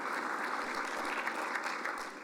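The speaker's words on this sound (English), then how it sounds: "Give yourselves applause because every one of you are part of that." Audience applause at a city's State of the City address, a dense, even wash of clapping from a large crowd, steady and moderately distant, fading slightly at the end.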